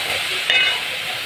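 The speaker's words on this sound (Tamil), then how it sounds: "நல்லா வதங்கட்டும் தக்காளி எப்படி சீக்கிரம் வதங்கும்" Tomatoes with turmeric and rock salt sautéing in a pan, giving a close, steady sizzle with one brief scraping stir.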